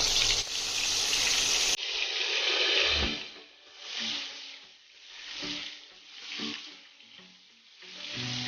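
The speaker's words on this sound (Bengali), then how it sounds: "সেই আলুগুলোকে এটার মধ্যে দিয়ে ভালো করে লাল করে ভেজে নেব।" Potatoes rubbed with salt and turmeric fry until browned in hot oil in a wok, a close, loud sizzle with an abrupt start followed by rhythmic swells and dips as they are stirred.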